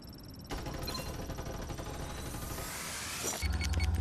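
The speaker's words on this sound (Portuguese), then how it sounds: "Um tiro aqui na frente." Gunfire in a PUBG-style shooter game, heard as a dense burst of rapid shots with a sharp onset and a heavier, louder volley near the end, close and without talk.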